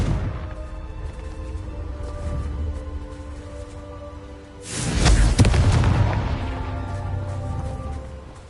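A Confringo fire spell blasts in Hogwarts Legacy, a sudden loud boom about halfway through that rolls into a long crackling rumble, after a quieter stretch of game ambience.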